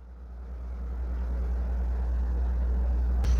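A Super General washing machine starts its spin cycle, a low rumbling hum that steadily builds in loudness, ending with a brief sharp click.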